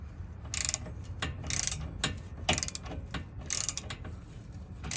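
Hand ratchet clicking in several quick bursts with pauses between, loosening the two starter bolts from under a 1987 Cutlass G-body with a 355 small-block Chevy, close and clear with no talk.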